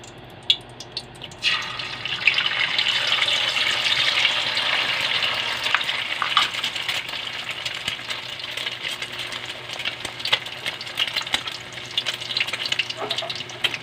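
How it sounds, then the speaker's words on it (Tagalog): Eggs hit hot oil in a pan and fry with a sudden burst of sizzling, then a steady crackle with sharp pops and spatters continuing close by throughout. "unahin ko lutuin mga sa itlog muna"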